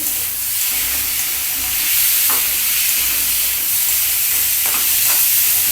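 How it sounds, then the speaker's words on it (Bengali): Small pieces of cut new winter potatoes frying in a pan give a continuous close sizzle and hiss, with a few faint scrapes from stirring and no talking. "আলুটাও ওর মধ্যে ভাজা হতে হবে"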